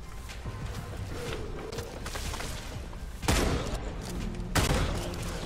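Two loud shotgun blasts in the first-person shooter Redeemer, about a second apart late in the clip, each a sharp broadband bang over continuous game noise and low rumble.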